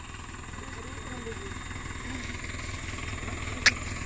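A tractor engine drones steadily while pulling a sugarcane trolley stuck in the ground, with several tractors and JCBs working together. Voices talk over the continuous low rumble, and a brief sharp noise sounds near the end.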